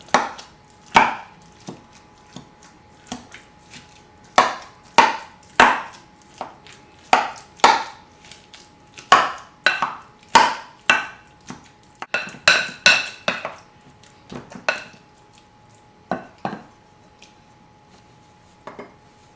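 Guacamole ingredients with sea salt and lemon or lime juice being mixed in a bowl, giving a rhythmic series of sharp, close knocks and clinks of utensil against bowl, about a dozen strokes with pauses and no talking.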